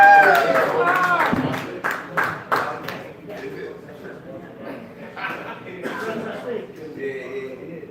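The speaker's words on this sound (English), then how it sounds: "Clap it up for public access, Bob." Audience applause at a comedy open mic, with scattered bursts of clapping and crowd noise that swell and fade beneath a loud voice talking over them.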